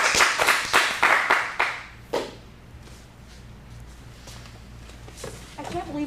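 A few loud, distinct claps from a small audience at a teen acting showcase, quickly dying away into quiet room tone before voices start up near the end.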